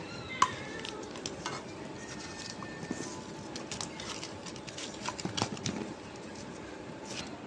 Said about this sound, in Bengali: তেলটা গরম হয়ে গেছে মাছটা দিয়ে দিলাম